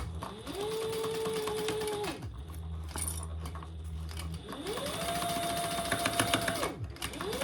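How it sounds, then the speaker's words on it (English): A sewing machine back-stitches over the side of a front pocket on a fabric panel for a nursery rhyme caddy. It runs in two steady bursts with a low-pitched pause between them. Light handling noise continues throughout. "I just back stitch over the side of that front pocket a little"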